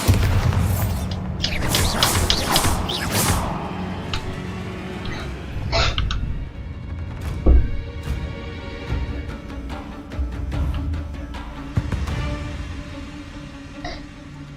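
A Bombarda blasting spell going off in Hogwarts Legacy: a deep booming explosion with crackling bursts at the start, then further thumps and magical effects scattered through the gameplay, with no talk.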